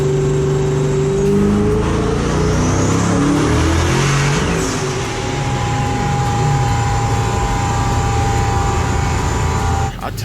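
A 1000-horsepower Dodge Hellcat with boosted forced induction revs hard and loud up close, its engine note rising and sweeping in pitch, then holding a sustained roaring drone before cutting off sharply near the end.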